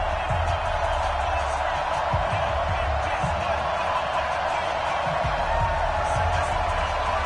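A stadium crowd in an NFL football video game for a Cincinnati Bengals versus New York Jets matchup, a loud, steady roar of massed voices that holds constant throughout, with an announcer talking over it.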